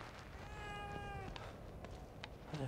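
A cat meows in a survival horror video game, a clear drawn-out call followed by softer short meows, heard alone over a quiet ambient background.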